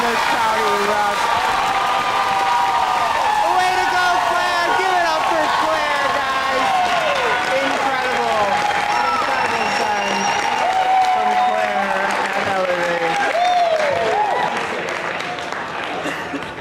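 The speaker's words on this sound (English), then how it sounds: "And the crowd erupts." A crowd at a climbing competition erupts in loud, sustained cheering, whoops and applause that fill the space continuously, with voices mixed into the roar.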